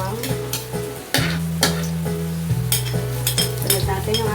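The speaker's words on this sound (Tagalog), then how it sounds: "Dito sa isang kawali, nagpainit na tayo dito ng mantika. Tapos, nilagay na natin yung ating bawang." Garlic fries in hot oil in a pan, a moderate sizzle broken by spatula clinks and scrapes against the metal, with a low steady hum behind it.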